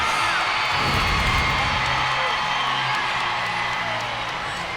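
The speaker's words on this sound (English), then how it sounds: "This crowd explodes in appreciation." A gymnastics arena crowd at an LSU meet against Kentucky erupts in loud, sustained cheering and whoops after a stuck dismount, with a voice briefly audible beneath the roar.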